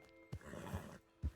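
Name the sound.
horse rearing and neighing in Red Dead Redemption 2 video game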